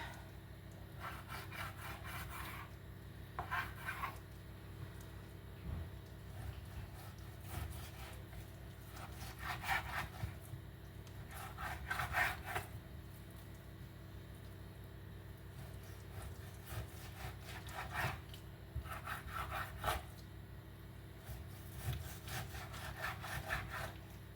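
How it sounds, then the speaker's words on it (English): Knife slicing excess fat from a raw tri-tip roast on a cutting board, a steady run of scraping, rubbing cuts in short strokes, close and fairly quiet with no talking. "Into a little extra fat here that I don't want, so we're just gonna trim this off."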